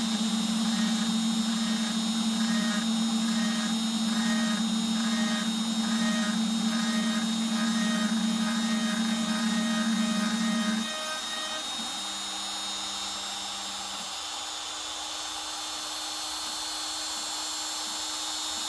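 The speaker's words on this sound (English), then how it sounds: "Turning on the spindle, doing it again." A milling machine spindle cuts a guitar neck, a steady loud machining whine with a bright tonal hum that drops in pitch and level partway through, then runs on more quietly, with no talking.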